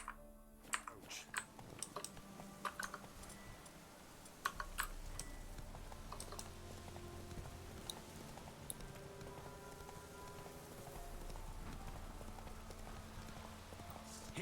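The horse Roach's hooves clip-clopping in The Witcher 3, a quiet, steady run of hoof beats over a low ambient game soundscape, with no voices.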